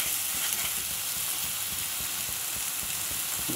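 Masala for matar paneer sizzles and fries steadily in a pan, a close, continuous crackling hiss with no voices.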